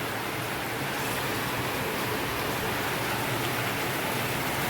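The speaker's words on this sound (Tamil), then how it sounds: "மழையை பா இடைச்சி ஊற்றுது காலையில் எந்திரிச்சோன்னா நல்ல மழை" Heavy morning rain pours down steadily, a dense, even hiss that stays loud and unbroken throughout with no voices.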